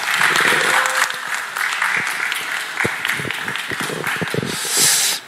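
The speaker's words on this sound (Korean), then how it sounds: "여러분 큰 박수로 청해 듣겠습니다" Sustained applause from a crowd at a Korean press conference, steady clapping that swells briefly near the end, with some voices faintly mixed in.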